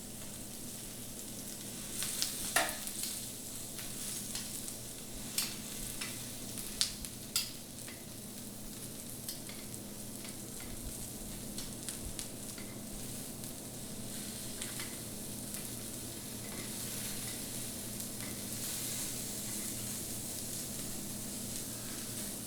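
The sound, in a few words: food searing on Himalayan salt brick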